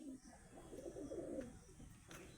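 Caged pigeons coo softly in a steady low murmur, a quiet continuous burble close by with no talking.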